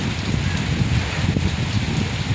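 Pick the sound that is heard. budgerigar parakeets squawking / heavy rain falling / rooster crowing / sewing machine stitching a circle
heavy rain falling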